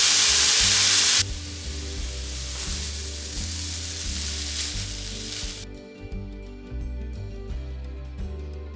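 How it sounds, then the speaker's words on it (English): Garlic and vegetables sauteing oil-free in a pan for a vegan side dish, a loud steady sizzle that eases after a second into a softer hiss over a low hum. "just stir that and get it nice and sauteed."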